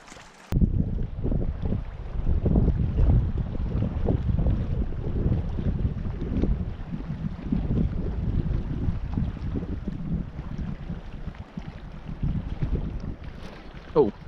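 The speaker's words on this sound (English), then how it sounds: "It's been blowing down from the north here today with that strong wind." Strong wind buffeting across an open lake from a fishing boat, a steady low roaring rush with broadband gusting noise, loud and continuous throughout.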